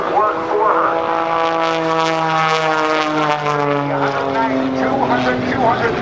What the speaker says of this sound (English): The Cirrus Extra 300, designed by Walter Extra in Germany, is capable of sustaining up to 12 positive or negative G's.